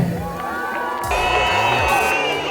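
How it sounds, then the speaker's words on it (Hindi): A crowd at a public movie review cheers and whoops loudly in a dense, continuous roar, with scattered shouts and some voices rising above the noise throughout. "तालियां हो जाए इनके लिए"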